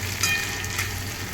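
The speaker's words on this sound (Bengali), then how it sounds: "এবার এটাকেও একটুখানি ভাজা ভাজা করে নেব" A medium tomato with ginger frying in a pan for a rice dish, a steady close sizzle with a couple of faint stirring scrapes and no talk.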